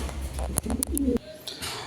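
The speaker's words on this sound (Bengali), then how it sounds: "আরেকটা কবুতর স্ট্রং ব্লাড লাইনের একটা শেয়ারলেল রেসার ফিমেল বার্ড মাদি কবুতর" A female racing pigeon of a strong bloodline gives a short, low, throaty coo up close, with a few soft rustles and clicks around it.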